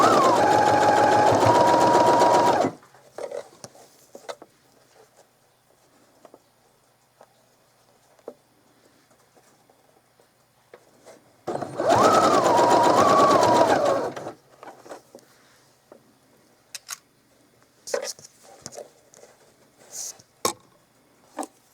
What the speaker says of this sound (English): and then we'll go to the sewing machine.